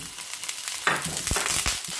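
Spinach is added to onions in a hot pan, and the pan gives a steady sizzle that flares up with crackling as the leaves go in, close by with no talking.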